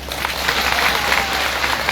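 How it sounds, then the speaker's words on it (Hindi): Audience applause rolls through a hall, a short, dense burst of many hands clapping together at a steady level. "ताली तो बनती है।"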